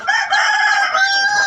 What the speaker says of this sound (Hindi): तो जी ये है सारी मुर्गी, सारे बच्चे 4 निकले हैं टोटल।